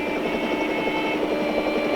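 A helicopter drones steadily overhead, its rotor thudding in a continuous rhythmic chop with engine whine, fairly loud and close, no voices.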